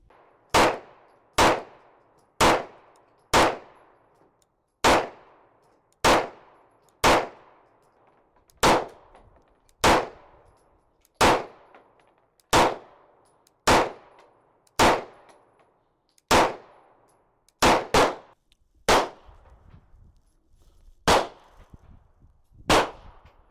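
A Mac 9 pistol fires about twenty sharp, evenly spaced shots at an outdoor range, each followed by a ringing metallic clang from a steel target, with one quick double near the end.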